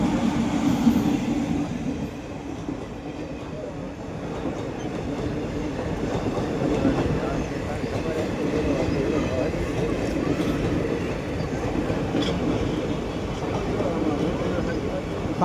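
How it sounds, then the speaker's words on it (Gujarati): A Bhavnagar–Palitana passenger train passes close by at a level crossing, its steady rolling rumble and clattering wheels filling the whole stretch without a break. "ભાવનગર પાલિતાણા વાળી ટ્રેન જાય છે અહીંથી"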